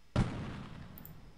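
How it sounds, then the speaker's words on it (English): A single sharp gunshot rings out in the Delta Force video game, fired at the player. The crack is quiet and somewhat distant, then decays into faint reverberation. No talk. "Who's shooting at me?"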